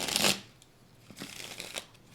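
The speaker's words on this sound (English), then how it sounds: "nice little riffle shuffle there for y'all" A deck of cards is riffle shuffled, opening with a crisp loud burst of fluttering cards, then a few softer flicks and taps as the deck is squared, close and quiet.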